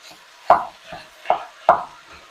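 Spatula breaking up 1.5 pounds of hamburger and 1 pound of pork sausage in a pan, four distinct scraping, chopping knocks spaced about half a second apart over a low sizzle.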